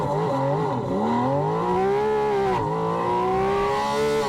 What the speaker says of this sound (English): For launch control, I hold my foot hard on the brake, pin the throttle, build up the revs.